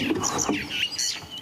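Out on a sunrise wildlife safari, a small bird calls nearby with a quick series of bright, high chirps and tweets over soft outdoor ambience.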